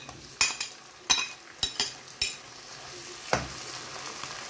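Shrimp dropped into a hot pan with garlic and onion, sizzling steadily while a utensil stirs and scrapes in several sharp strokes up close, with no talk.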